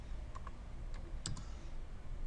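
Several quick, light keystrokes tap on a computer keyboard, close and soft over a faint background hiss.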